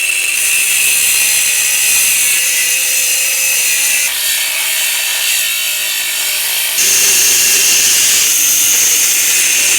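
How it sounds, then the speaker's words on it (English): A corded grinder cuts through a chunk of steel on a Range Rover camper build, a loud, harsh, continuous grinding roar that shifts pitch as the disc bites, with no talk. "we had to switch over to the corded grinder"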